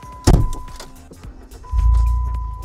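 A Jeep Wrangler is started with the key: a sharp clunk, a short pause, then the engine catches and settles into a loud, steady, low rumble close by.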